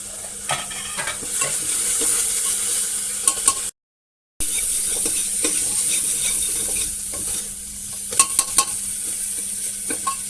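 Turmeric and dry masala tadka frying in a pan for Amritsari aloo wadiyan, a dense continuous sizzle with scraping stirs and small spatters, briefly cut to silence midway.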